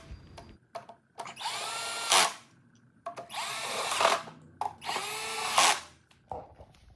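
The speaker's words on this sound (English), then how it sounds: "screwing down this black bar down with the 2 screws" A power screwdriver drives screws into a Razor scooter's battery case, fastening a black bar. Three separate whirring bursts, each a second or so long, come close and fairly quiet, with small clicks and handling noises between them.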